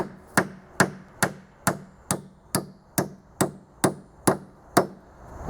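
A salvaged nail being hammered into wood, struck a dozen times in a steady, even rhythm with sharp, close, loud knocks and no talking.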